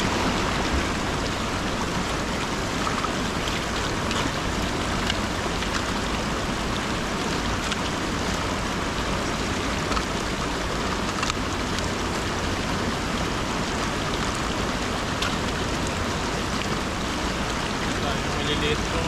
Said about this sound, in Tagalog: Nakalakas yung lagas-gas ng tubig dito.